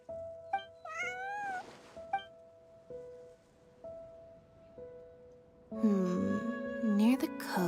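A cat in the video game Genshin Impact meows several times, with short, rising and falling calls early on and a louder cluster near the end, separated by quiet gaps.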